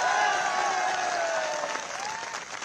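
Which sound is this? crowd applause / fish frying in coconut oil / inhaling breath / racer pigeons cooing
crowd applause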